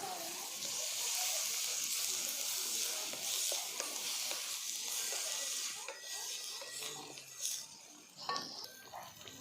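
Ground spices and chopped tomatoes sauté in hot oil in a pan, giving a continuous loud sizzle with scraping stirs throughout and a few sharper utensil knocks toward the end.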